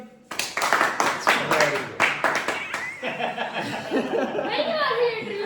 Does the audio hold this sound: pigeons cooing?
no